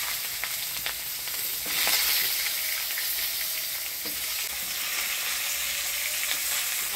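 Potato and eggplant pieces hit a tempering of whole cumin and dried chilies in hot oil for a village fish curry, setting off a loud, close, hissing sizzle that swells briefly and then holds steady, with occasional stirring.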